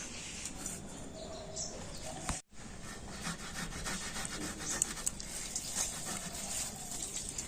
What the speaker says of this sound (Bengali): এই গ্রেটার দিয়ে তো এই সিদ্ধ করা আলুটা আমি গ্রেট করে নেবো